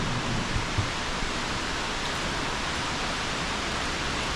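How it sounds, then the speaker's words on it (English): A dense, unbroken hiss of heavy torrential rain pours down steadily during a storm in Bang Saray, Thailand, with no voices or other distinct sounds. "the rain is absolutely torrential."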